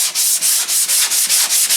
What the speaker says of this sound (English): I'm just using the 3M, the little hard rubber sanding block